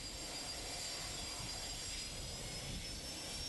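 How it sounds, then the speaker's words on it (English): Multi-engine aircraft engines running steadily during departure taxi, a constant broadband roar with high whining tones, fairly distant and even throughout, no talk. "Let's take a look at a typical departure on a multi-engine aircraft."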